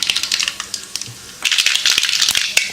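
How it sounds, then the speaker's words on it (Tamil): Mustard seeds spattering and popping in hot oil in a kadai, a dense run of sharp crackles, close and loud, steady at first and then thickening into a busier sizzle. "எண்ணெய் காஞ்சிடுச்சு, கடுகு போட்டுக்கலாம்."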